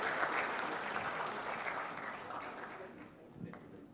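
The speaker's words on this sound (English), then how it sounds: "Let's also clap. Let's clap." Steady applause fills the hall from a large audience at a pensions conference in Kenya, a dense wash of clapping that gradually thins toward the end, with a voice briefly heard.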